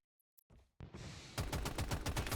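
Video game gunfire: a couple of isolated shots, then a sustained burst of rapid automatic fire with evenly spaced, punchy reports, loud and close with no talking.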